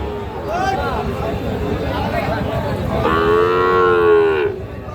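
Cows moo loudly, one short call then a long drawn-out low, over a steady murmur of crowd chatter at a busy livestock market in Ghoraghat, Dinajpur, Bangladesh.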